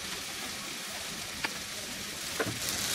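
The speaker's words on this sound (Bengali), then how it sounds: "এই মিনিট 2 মতো ভেজে আদা রসুনের কাঁচা গন্ধটা চলে গেলেই আমি এখন এর মধ্যে এই ফুলকপিগুলাকে দিয়ে দিব।" Oil hissing steadily in a pan with ginger and garlic, a continuous close sizzle with a couple of brief soft clicks, just before cauliflower goes in.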